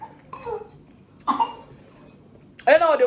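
At a beach, a person coughs and clears their throat in short bursts after eating spicy noodles, with quiet pauses between and a final louder, voiced cough.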